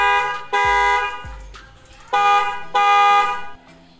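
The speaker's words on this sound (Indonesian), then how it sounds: "semuanya sudah beres terpasang dan saya akan tes klaksonnya" A newly installed Denso snail-type car horn being tested with three loud blasts, two short and one longer, separated by gaps of quiet, with no talking.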